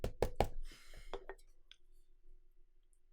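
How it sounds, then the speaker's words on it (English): A knock on a door in an audio drama, three sharp raps at the start followed by two softer ones, close and distinct, then a low hum and quiet room tone. "Knock on the door."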